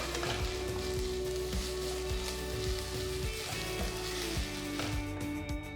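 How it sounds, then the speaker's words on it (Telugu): Onions fried to golden brown sizzle loudly in a pan as ginger garlic paste is stirred in, a dense continuous crackle with repeated scraping strokes of the spoon against the pan, close and without talk. "ఉల్లిపాయలు రంగు మారేంత వరకు వేయించాలి."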